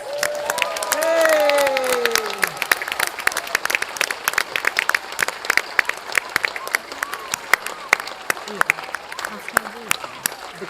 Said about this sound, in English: Have a round of applause for the claimants.